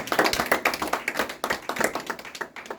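A church congregation claps and acclaims the Lord, close lively hand claps falling in a quick irregular rhythm, loud and sustained throughout.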